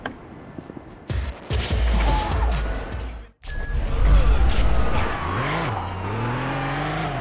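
Game vehicle engine from Gangstar Vegas as a truck pulls away, starting after a short pause, then a loud, steady drone with an impact, a brief dropout and a rising, revving pitch near the end.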